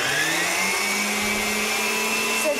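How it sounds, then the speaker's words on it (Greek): An electric mixer runs at high speed beating eggs with sugar for a walnut cake batter, a steady whirring motor whine with a slight pitch drift, close and continuous with no talking. "Συνεχίζουμε στο μίξερ όμως εμείς να χτυπάμε τα αυγά με τη ζάχαρη."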